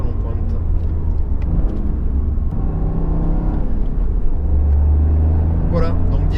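A Toyota GR Yaris 261 hp Track Pack engine drones loudly and steadily from inside the cabin with a deep low rumble, while someone talks over it in French.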